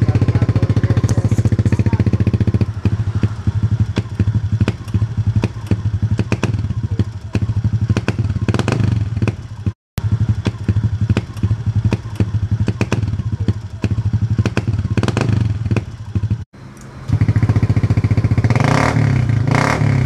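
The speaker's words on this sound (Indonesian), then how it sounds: "Beat tahun 2019 mengalami susah nyala atau gasnya sering telat dan terasa kosong" A 2019 Honda Beat fuel-injected scooter engine that starts hard and lags on the throttle idles with a rough, clattering putter, cutting out briefly twice before revving up again, close to the microphone.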